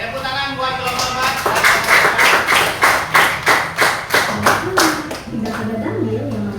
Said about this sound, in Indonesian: Oke, tepuk tangan buat kelompok 4